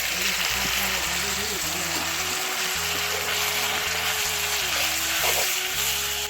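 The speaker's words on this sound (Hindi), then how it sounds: "इधर ऑयल गरम हो चुका है, फ्राई करना पड़ेगा प्याज को।" Onions and tomatoes sizzle in hot oil, a constant frying hiss beneath a woman's speech, with low hum and occasional clinks from the pan.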